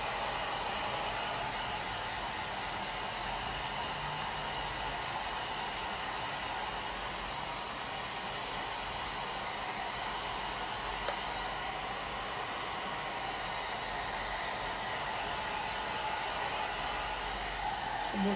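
A hair dryer blows steadily on painted plaster pieces, a constant, even whooshing hum that runs unbroken throughout with no talking.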